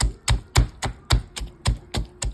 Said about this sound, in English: So just going to chop it up just a little bit more.